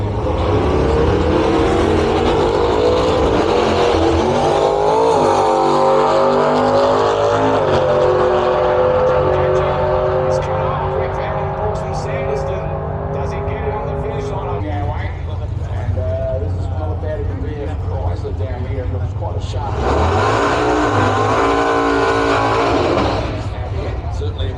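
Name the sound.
HX Holden Statesman drag car doing a burnout at racetrack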